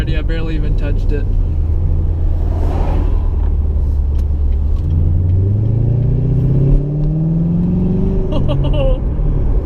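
A straight-piped 2016 Corvette with headers and a catless X-pipe revs hard, its very loud, deep exhaust rising and falling in pitch up close, with someone talking over the rumble.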